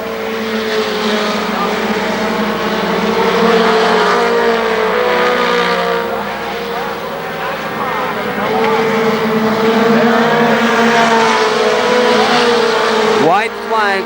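Race cars roar around the oval at KilKare Speedway during the 1995 final feature, a loud continuous pack of engines under an announcer's voice.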